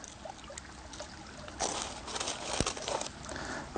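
Salt crystals being scooped out of a bag, a close crinkling rustle with gritty crackles that grows busier in the second half.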